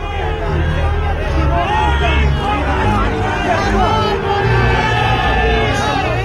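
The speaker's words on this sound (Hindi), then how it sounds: "मोदी को देखते ही भीड़ में जबरदस्त उत्साह फैल गया।" A dense crowd in New York cheers and shouts excitedly on seeing Prime Minister Modi, with many overlapping voices, whistles and calls forming a loud, continuous roar up close.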